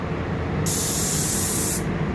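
A spray gun releases one steady hissing burst lasting about a second inside a homemade spray room, starting and stopping cleanly over a low background hum, with no talking.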